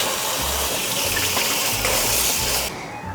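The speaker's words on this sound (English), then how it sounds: "I'm gonna wash my hands because they're very dirty" Tap water runs steadily as hands are washed under it, a close, constant rushing splash that stops abruptly just before the end.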